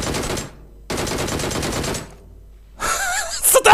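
Bursts of automatic machine-gun fire in an online shooter game, two long loud volleys separated by a pause, then a messier stretch of shots and effects, with a voice speaking over the game.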